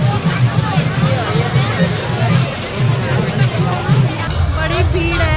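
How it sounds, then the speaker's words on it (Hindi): A dense crowd at a Dussehra festival in Solan, Himachal Pradesh, a steady loud hubbub of many voices and chatter filling the space, with no single speaker standing out. "बड़ी भीड़ है, बहुत ज्यादा वाली"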